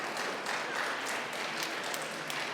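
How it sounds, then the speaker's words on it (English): An audience claps together at a talk about non-profit organizations, making a faint, dense patter of many hands heard from a distance in a large room. "if everyone starts clapping"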